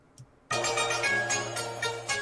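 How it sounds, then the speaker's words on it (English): A phone rings with an incoming call, a loud sustained electronic ringtone melody starting abruptly after a short quiet moment and continuing in pulses. "Your phone ringing."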